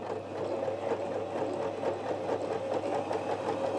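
A Janome J3-18 sewing machine runs a steady stitch at 2.5 length, its motor whirring continuously with a fast, even needle rhythm, close and clear throughout.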